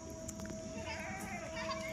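Goats bleat in a farm pen where ten to fifteen of them are tied up, their calls blending into a steady, noisy din without pause and with no talking.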